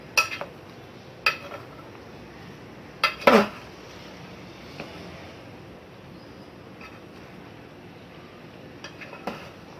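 Utensils clink and scrape against a bowl as food is mixed, a few sharp metallic taps, the loudest near the start, over a quiet hiss, with long pauses between them.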